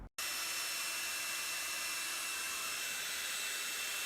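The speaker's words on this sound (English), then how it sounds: "get my hair dryer out, and I'm going to go ahead and start heating it to get it to cure" A hair dryer blows hot air steadily in a garage to cure film on a 2014 Tesla Model S, a continuous close whooshing hum that starts abruptly after a brief silence and runs alone.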